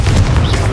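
Confringo blasting spell cast in Hogwarts Legacy, a single loud, dense burst with heavy low rumble filling the whole short moment.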